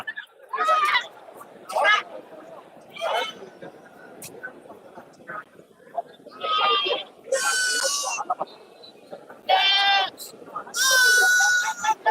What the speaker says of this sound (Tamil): எல்லா வெள்ளாடுகள் இன்னைக்கு அதிகமா வந்திருக்கு